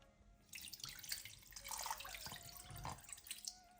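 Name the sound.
tap water running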